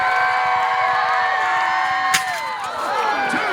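Renaissance faire spectators cheer loudly for a jousting knight, sustained overlapping shouts and whoops with a sharp crack or slam partway through.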